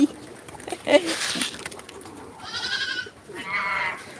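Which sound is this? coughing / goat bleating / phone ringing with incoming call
goat bleating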